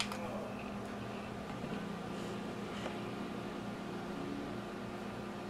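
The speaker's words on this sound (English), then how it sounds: "So I got the onion fan over here." An electric fan set up beside onion chopping for a food-prep session runs with a steady, even whir and low hum, a constant airy drone with no change in pace and no talking.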